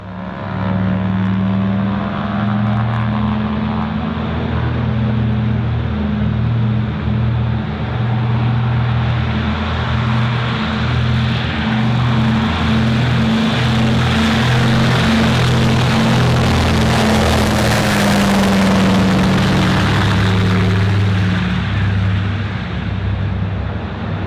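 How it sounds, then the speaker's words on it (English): The engines of a Douglas C-47 Dakota idle on a snowy runway with a loud, steady propeller drone and throbbing low-pitched beat that swells slightly toward the end. "the aircraft sat, engines idling, whilst the snow fell heavily"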